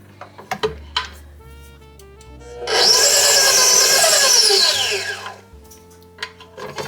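An electric mixer whirs loudly for a few seconds while creaming sugar cookie dough with an added egg and almond flavouring, framed by quieter clatter of a bowl before and after.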